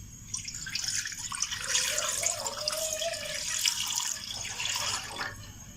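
Water from a glass is poured into a cooking pan before mutton goes in, a close, splashing, gurgling pour that runs for several seconds, loud at first and then steadier, with no talking.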